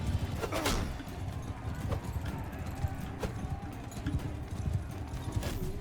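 Horses gallop in Mount and Blade Bannerlord, with rapid hoofbeats, an occasional whinny and sharp battle clatter, moderately loud against a busy background.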